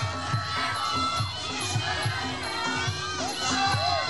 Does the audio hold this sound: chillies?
no